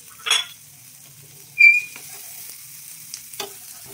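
Paneer, tomato, cucumber, beans and chillies are tossed in a frying pan. Faint sizzling runs under a few sharp metallic clinks and scrapes of a spatula against the pan, spaced out over a few seconds.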